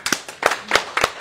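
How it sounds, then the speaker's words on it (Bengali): A small group at a live textile shop event claps hands, giving about six sharp, close, fairly loud bursts at an uneven pace. "সবাই মিলে একটা হাততালি দাও ভাই সবাই"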